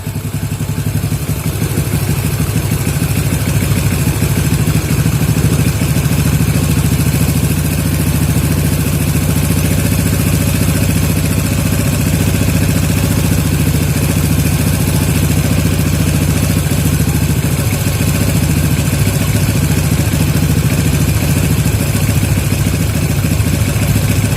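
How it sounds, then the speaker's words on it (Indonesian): An old Yamaha Jupiter MX motorcycle engine runs during carburetor adjustment, with a loud, steady, close idle and mechanical clatter throughout and no talk. "Kita balikkan lagi berlawanan jarum jam untuk mencari suara mesin paling tinggi ya."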